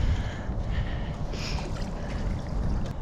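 A kayak or stand-up paddle board moves upstream against a headwind on a winter river, giving close, continuous water swish and splashing from paddling, with wind rushing behind.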